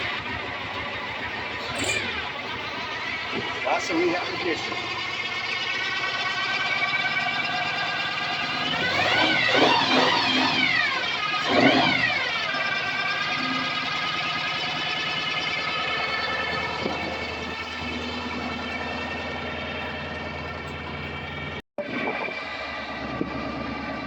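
A car engine with no muffler cranks with whirring starter bursts, then catches and runs loud and raw, its revs sweeping up and down before a brief cut near the end; a voice speaks briefly.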